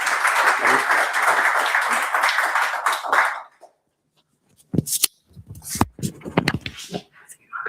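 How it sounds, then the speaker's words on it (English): A conference audience applauds to welcome a speaker, loud dense clapping for about three seconds that stops abruptly, followed by silence and then a few knocks and handling sounds. "So please, big applause."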